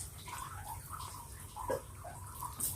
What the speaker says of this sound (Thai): น้ำกะทิเราก็เดือดอีก เราใส่สาคูลงไปเลยค่ะ